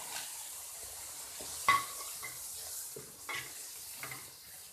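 Peas tipped into a pan of vegetables frying with tomato paste, giving a soft, steady sizzle with a spoon stirring and clinking against the pan, the brief knocks and scrapes coming quietly and intermittently.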